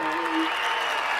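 An audience at a live comedy game show breaks into cheering and applause, a dense, steady wash of clapping and voices lasting about a second.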